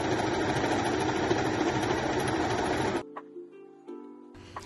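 A sewing machine hums steadily for about three seconds while stitching narrow fabric strips with a small seam allowance for a one-shoulder scarf dress, then stops abruptly, leaving a faint low hum and a few soft clicks.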